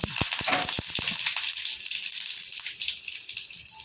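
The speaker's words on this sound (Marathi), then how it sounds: "तेलमध्ये आता तापले तर टाकली महुरी मस्तपैकी आणि आता टाकते मी कढीपत्ता" Curry leaves added to hot oil after mustard seeds: loud crackling pops burst for the first second, then settle into a steady, close sizzling hiss.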